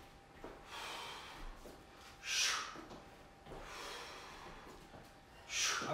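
Forceful exhales during a flat-stomach floor workout of alternating lunges and knee drives, with two sharp, close breath bursts standing out among softer, steady breathing and faint background noise.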